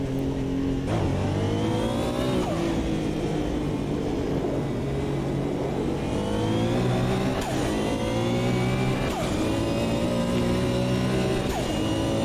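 Porsche race car engine in the Automobilista 2 racing sim, revving loud and continuous with rising and falling pitch sweeps as it accelerates through gears, alone without talk.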